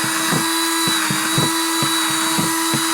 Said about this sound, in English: I'll drill holes in the lid